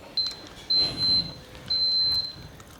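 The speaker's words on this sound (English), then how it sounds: "The beeping sound indicates that everything is ready to go." A waffle maker's thin, high electronic ready beep sounds three times, two short tones then longer ones, fairly soft against a quiet room background.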